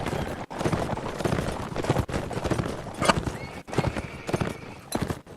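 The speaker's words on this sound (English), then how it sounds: "me on my slow horse" Horse hooves gallop in Mount & Blade as a steady, fast clip-clop rhythm, loud and near, with occasional neighs and whinnies over a busy background.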